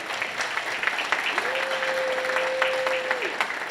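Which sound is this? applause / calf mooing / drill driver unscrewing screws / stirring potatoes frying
applause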